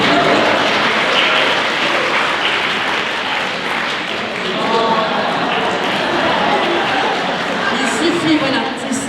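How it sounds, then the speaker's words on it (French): Lecture audience at a conference on cooperation clapping for a technician who just fixed the equipment, sustained broad applause with a hum of chatter under it, filling the hall evenly throughout. "Oui, on peut l'applaudir, bien sûr."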